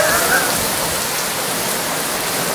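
Heavy monsoon rain pours down in a loud, dense, unbroken hiss, close and steady throughout.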